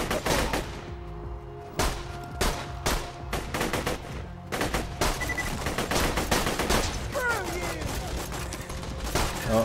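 Gunfire in Borderlands 2 with elemental rounds: repeated sharp single shots spaced through the stretch, loud and close, over continuous busy game sound and a whining effect near the end.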